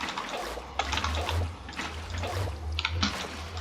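Water poured from a bucket in the video game Minecraft, a steady splashing, trickling flow with a few soft surges over a low hum, heard alone without talk.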